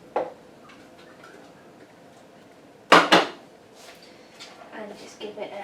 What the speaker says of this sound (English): And just give it a quick mix while that onion's strong.